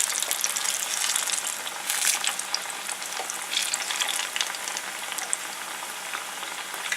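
Slices of plantain frying in hot oil in a pan while being turned over, a dense continuous crackling sizzle with brief louder bursts of spattering, close and steady throughout.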